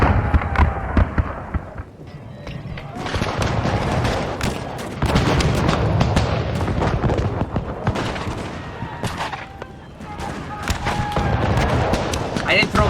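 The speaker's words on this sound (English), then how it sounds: "Look at this line firing though" Infantry line volley fire in Napoleon Total War on a massive Borodino battlefield, with rolling musket volleys and booming crackles in repeated waves, loud and dense, while someone talks over the din.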